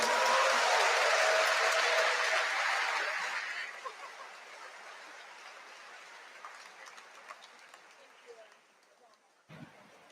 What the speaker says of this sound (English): Give a big applause for Daan